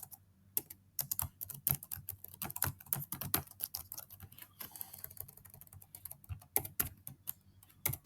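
Someone typing a name on a computer keyboard while filling in a paper's title page: quick, irregular bursts of close, crisp keystrokes with short pauses between words.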